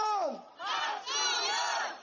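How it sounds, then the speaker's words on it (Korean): Rally crowd at a Democratic Party election campaign event chanting candidate names in unison, three loud, drawn-out collective shouts in quick succession, with a lone voice leading the first. "우리 다시 한번 크게 외치겠습니다"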